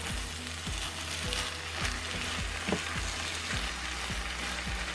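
Thai pork fried rice with vegetables sizzles steadily in a hot pan, with repeated scraping stir strokes at a regular rhythm under the continuous frying hiss, close and moderately loud.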